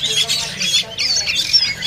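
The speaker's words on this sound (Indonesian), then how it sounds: "Ini ada burung kedasi anakan." Young kedasi songbirds and other fledgling songbirds squawk and chirp constantly at a bird market kiosk, a dense overlapping chorus of shrill, close calls with no pause throughout.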